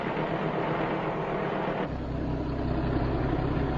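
Lorries and tractors rumble continuously nearby, a deep droning motor noise that shifts in pitch partway through as the vehicles move along.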